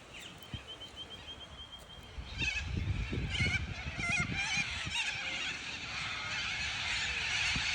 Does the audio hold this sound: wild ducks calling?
yes